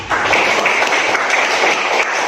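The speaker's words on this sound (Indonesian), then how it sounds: "beri tepuk tangan yang meriah kepada kelompok 4" Classroom applause for a student group, a short burst of children clapping together, bright and fairly even, with little talk over it.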